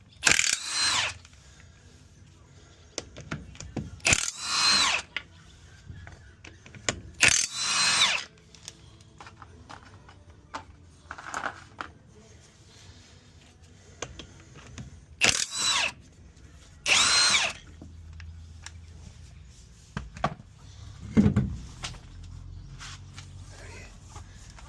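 Several loud, short bursts of a power tool, probably an impact gun, loosening wheel bolts on a Mk3 Ford Escort Bantam bakkie. The bursts come close together, with quieter gaps and faint clanks between them.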